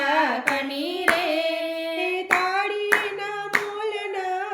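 Sharp hand claps land at a steady beat during a devotional Gujarati bhajan, under a prominent sung melody.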